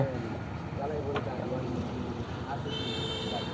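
A boat travelling on the Surma river in the afternoon, heard as a steady low rumble with water and wind noise throughout, fairly close and continuous.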